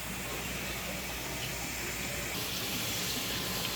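Water pours steadily into a roughly 75-gallon plastic tote in an aquarium sump, a constant faint rushing flow like a running tap, unbroken for a few seconds with no talking.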